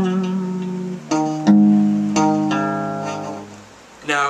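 A riff plays on a Stratocaster electric guitar, a few sustained notes and chords struck one after another with clear attacks and ringing decays, loud and alone.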